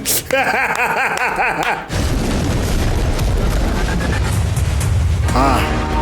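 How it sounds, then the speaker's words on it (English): A Gatling gun fires in an Indian action movie, Kaithi, sounding as a loud, dense roll of rapid booming bursts that continues for several seconds, mixed with soundtrack and effects. "Yes, it is the Gatling gun."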